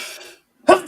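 A single sharp sneeze bursts out near the end, loud and close, after a moment of silence that follows a person's trailing speech.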